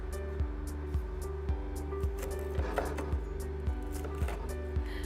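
Knife slicing warm cantuccini almond biscuits at an angle into thick pieces, about ten evenly spaced crisp cuts thudding onto the board over a low background hum.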